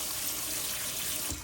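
Small red beans being rinsed under a steady stream of running tap water in a kitchen sink, a continuous close, even splashing hiss with no talk.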